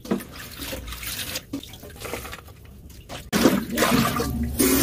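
Tap water runs into a kitchen sink while broccoli is rinsed under it, a close, steady splashing that breaks off briefly and then surges louder as the florets are turned under the stream.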